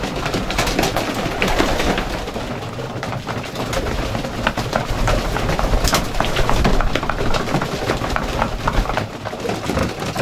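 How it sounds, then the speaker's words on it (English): Homing pigeons coo softly inside a loft, soft repeated calls over a dense rustling of wings and shuffling birds, steady and close. "He sent us over six lovely pigeons"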